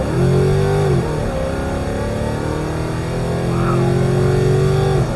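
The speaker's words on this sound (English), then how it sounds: "I hope you can hear that motor" A Ford Coyote V8 in a Mustang revs up and down in a few smooth rising and falling sweeps, loud and close, with a rough rumbling undertone between pulls.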